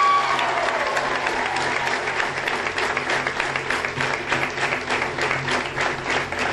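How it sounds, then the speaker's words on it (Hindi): An audience at a business seminar applauds, with sustained crowd clapping that is fairly loud and fades in waves, without spoken words over it. "जैसे आज आप लोग ताली बजा रहे हैं"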